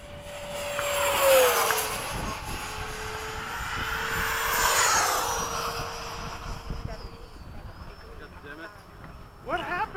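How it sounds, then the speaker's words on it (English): F-15 jet, apparently a model aircraft, making a low pass from the left, a rising and fading engine roar with a whine sweeping in pitch, heard close, with people talking over it. "I'm doing a low pass from the left."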